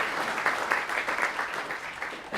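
Audience applause fills a venue at the Kids Rock Cancer 2017 benefit concert, a steady dense wash of clapping hands sustained throughout, fairly loud and without talk.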